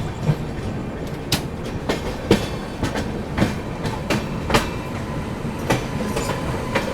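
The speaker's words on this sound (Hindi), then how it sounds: "चलिए दोस्तों अपना अराइवल हो रहा है चित्तरंजन रेलवे स्टेशन पर" Vibhuti Express passenger train rolling into Chittaranjan railway station, with steady rhythmic clickety-clack of wheels over rail joints, sharp periodic metallic clanks and a continuous rumbling undertone, close and moderately loud throughout.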